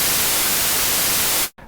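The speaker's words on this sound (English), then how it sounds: "This is white noise." Steady, loud broadband hiss of white noise filling the whole range evenly, cutting off abruptly near the end before a brief return.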